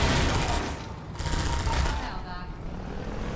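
Rapid, dense machine gun fire from the airboat in Half-Life 2, a continuous loud rattle that briefly dips before resuming, over engine rumble.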